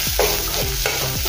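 Onions and green chillies sizzle in a pan for stuffed brinjal, with a few scraping strokes of a spoon stirring through the steady frying hiss, close and moderately loud.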